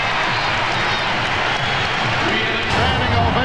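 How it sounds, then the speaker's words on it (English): Standing ovation from a Chicago Bulls home crowd at the 1996 NBA Finals Game 6 against the Seattle SuperSonics, a dense sustained roar of applause and cheering filling the arena, swelling slightly near the end. "Standing ovation again from this Chicago crowd."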